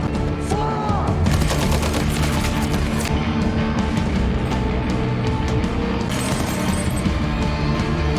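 Nazi soldiers open fire in a film scene, a dense, continuous barrage of gunshots blended with a loud, busy soundtrack, with no pauses across the whole stretch.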